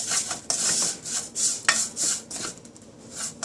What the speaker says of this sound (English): So let me roast it. You have to roast this. Don't leave it. Stir this.